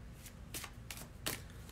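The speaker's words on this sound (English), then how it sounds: "So I think they're shuffled enough." Three quick riffling bursts of tarot cards being shuffled, evenly spaced, close and fairly quiet.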